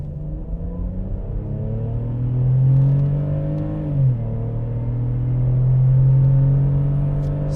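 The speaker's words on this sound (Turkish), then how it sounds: "Şöyle mesela bir dip gaz yapalım." BMW X3 E83 2.5i accelerating at full throttle, heard from inside the cabin: a loud, steady engine drone climbs in pitch, dips briefly at a gear change around the middle, then rises again, with no talking.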